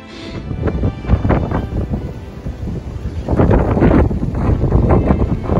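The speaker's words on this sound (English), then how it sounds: "It's very windy." Loud, strong wind roars and buffets the microphone in heavy, rumbling gusts that swell and fade without pause, on Malling Hill, Lewes.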